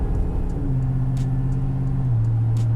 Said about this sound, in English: We're gonna get it to cruising speed. You can hear the supercharger,